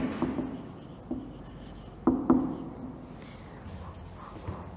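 Chalk or marker writing on a classroom board during a fifth-grade social studies lesson, a few scratchy strokes and taps, the two loudest near the middle, over quiet room noise.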